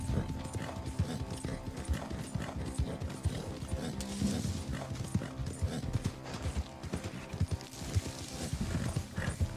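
Hooves of a Missouri Foxtrotter horse clip-clopping in a western video game at night, a steady rhythmic gait of close, moderately loud hoofbeats throughout, with faint mechanical clinks in the background.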